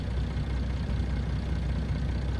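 A steady, low rumble from the idling engine of an Agco DT220 tractor in Farming Simulator 19 holds an even, continuous drone with no talk over it.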